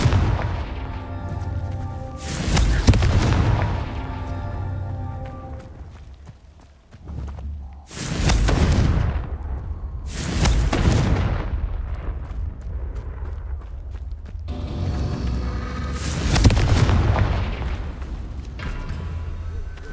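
Several heavy blasts from the Confringo blasting curse in the video game Hogwarts Legacy, deep booming explosions spaced a few seconds apart, each with a rumbling decay, over a low ambient game background.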